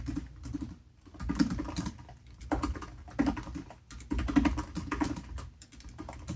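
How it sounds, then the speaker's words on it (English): Soft, quick typing close by on a Dell Latitude laptop keyboard, keys pattering in uneven bursts with brief pauses between them. "this is a comparison of the keyboard of the Latitude 9440"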